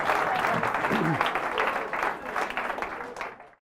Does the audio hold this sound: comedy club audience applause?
yes